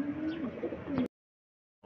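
Pigeons coo at a racing pigeon loft in Arayat, Pampanga, as birds return from a race; low throaty cooing runs steadily for about a second, then stops abruptly into silence.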